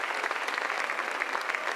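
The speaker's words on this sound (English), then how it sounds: "I just would like us all to give a big round of applause" Crowd applause at a VIP ceremony for an all-star cheer world championship, a dense, even patter of many hands clapping, moderately distant and steady for the whole stretch.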